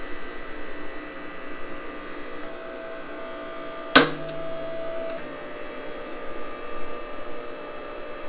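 A MetalPro ironworker radius punch clips steel bar with one sharp, loud snap midway through, heard over a steady hydraulic machine hum.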